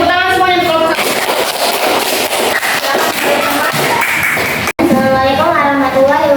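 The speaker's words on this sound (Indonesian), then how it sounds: "Tepuk tangan semuanya di kelompok 1." A classroom claps for the first group of students, a dense burst of applause framed by a teacher's and students' voices before and after.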